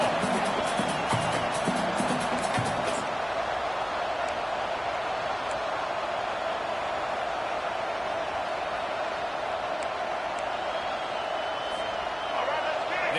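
Football stadium crowd roaring steadily during a game, a dense, continuous wash of cheering and noise from a large crowd, with louder bursts and clapping near the start and a commentator talking over it throughout.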